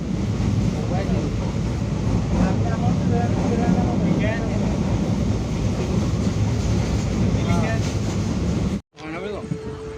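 A passenger train at a station gives a steady loud rumble and rattle with people talking over it, then the noise cuts out abruptly near the end.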